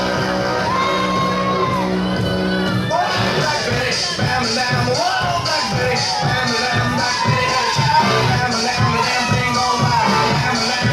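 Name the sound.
arena crowd booing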